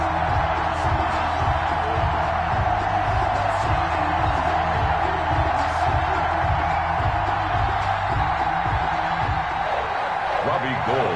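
Steady roar of a sold-out stadium crowd at a Patriots vs 49ers football video game, a dense continuous wash of cheering and murmur with faint thumps and possible commentary underneath.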